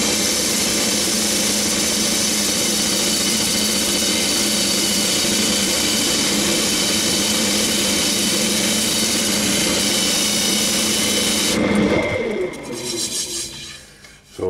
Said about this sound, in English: So I'm going to do a bit of power sanding with it.